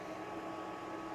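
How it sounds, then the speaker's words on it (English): Arctic Air Ultra personal air conditioner fan running at full speed, a steady, fairly loud broadband whir with a faint constant tone, unbroken and close for the whole second. "that's actually kind of a noisy fan, but that's at full speed."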